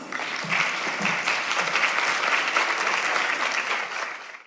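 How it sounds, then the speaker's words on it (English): An audience at an annual charity fundraising dinner gives a steady round of applause, a dense, even wash of many hands clapping that holds for several seconds before tapering off at the end. "Please give her a round of applause"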